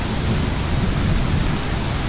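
Thunder rolls from an intense lightning storm over St. Louis, Missouri: a loud, continuous low rumble mixed with rain noise that lasts the whole moment.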